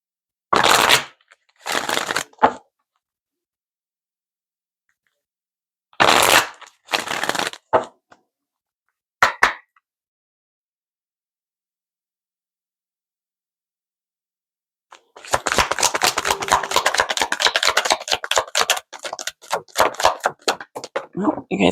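Dragon Oracle cards are shuffled by hand in three brief riffling bursts separated by silence, then a longer, denser run of crisp card flicks and slaps close to the listener.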